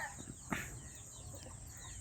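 A small white hen with her chicks gives a single faint, short cluck near the start. Soft farmyard ambience continues around it.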